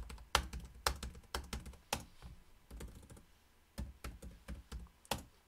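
Someone types on a computer keyboard to enter data into a simple homemade PC, producing sharp, irregular clacking keystrokes that sound close, with short gaps between clusters.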